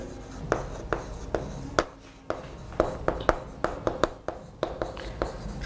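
Chalk or marker strokes on a board during a biology lesson, a steady run of sharp, close scratching taps with short pauses, fairly loud with no talk over them.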